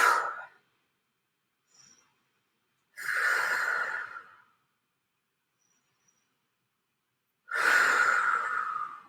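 Three deep, audible breaths during a floor mobility stretch, each a long airy inhale-exhale lasting one to two seconds, spaced apart by quiet pauses, close and clear with no talking.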